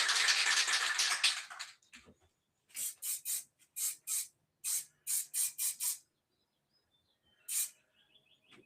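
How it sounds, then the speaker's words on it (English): Black and white spray paint hisses from a can at close range, first in one long continuous blast, then in a quick series of short, evenly spaced bursts separated by silence. "black and white spray."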